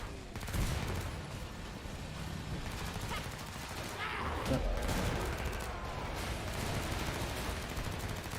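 Sustained gunfire in the zombie shooter Killing Floor 2, a dense mix of rapid automatic shots and heavier blasts at moderate distance, continuous and busy throughout, with faint voices in the background.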